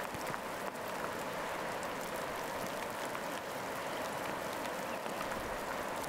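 Steady rain falls by a lake among evergreen trees, a soft continuous patter and wash at moderate level throughout with no voices.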